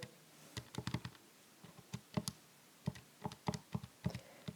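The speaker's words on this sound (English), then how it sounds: "I'm typing in my calculator." Numbers are punched into a calculator in quick, irregular clusters of sharp plastic key taps, close and faint, with brief pauses between runs of presses.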